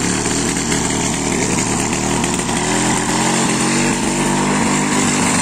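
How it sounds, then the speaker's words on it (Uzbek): A ground-water pump motor runs loud and close, a steady droning hum that holds without pause. "Ovozga ovozga suv kelyapti bu yerdan motordan."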